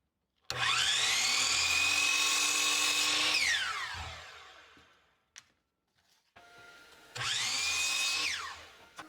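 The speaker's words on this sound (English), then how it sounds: "But now what I want to do is cut some 1x2s," A power saw cuts 1x2 wood boards to 22-inch lengths in a woodworking shop, with two loud, sustained whining cuts that spin down, separated by a quiet gap with a few small knocks.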